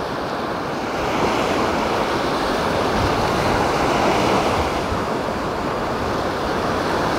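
Ocean surf at a beach in Portugal rolling in continuously, a broad steady roar of breaking waves with some wind buffeting the microphone, no voices.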